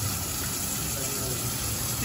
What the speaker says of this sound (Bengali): এটাকে ছেঁকে নেওয়া হচ্ছে, যেটা কিনা পরবর্তীতে যোগ করব।